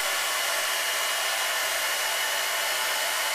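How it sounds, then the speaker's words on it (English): A hair dryer runs on its low setting, giving a steady, even whooshing hiss that stays close and unbroken from start to finish with no voices. "And we're going to keep it on low."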